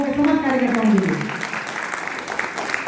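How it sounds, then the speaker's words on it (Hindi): A crowd at a cultural function by blind artists applauds loudly and continuously, with a voice speaking over the opening second. "जोरदार तालियां उद्भव के समस्त कार्यकर्ताओं के लिए"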